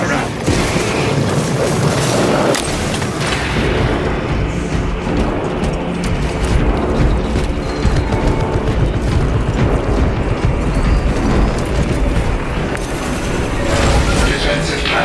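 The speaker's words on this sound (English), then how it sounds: "Defensive cannons active." Defensive cannons in Warhammer 40,000: Space Marine 2 pound away in continuous heavy booms and rumbling blasts, loud and dense throughout, with a voice speaking over the barrage.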